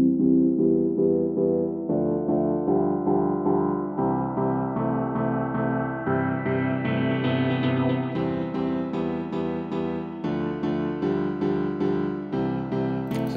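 A synth progression made in FL Studio plays as a sequence of sustained chords whose delay echoes are automated to fade away gradually, building steadily across the phrase with no voices.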